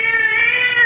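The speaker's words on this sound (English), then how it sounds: "You know, Gray Whiskers is my cat." A cat meows in a 1951 radio drama scene set in an old underground room, one loud, close, drawn-out wavering meow lasting under a second.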